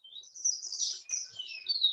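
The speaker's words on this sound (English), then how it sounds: "There's even crimson finches there." Crimson finches chirping in an aviary, a quick run of high, thin twittering calls close by, with no other sound.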